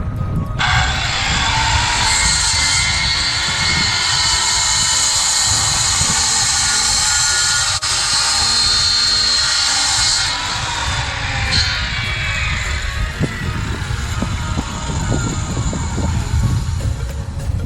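A circular saw spools up with a steady high whine that holds for several seconds, then its pitch falls away as the blade spins down, while irregular crunching of a cut runs underneath. No one speaks.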